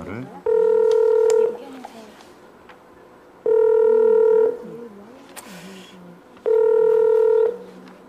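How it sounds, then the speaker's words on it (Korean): Three long, steady telephone dialing tones, each lasting about a second at even intervals, sound while a call is placed to the former Korean president's home during a KBS broadcast, with faint background murmur between them. "지금 전두환 전 대통령 댁에 전화를 하고 있습니다."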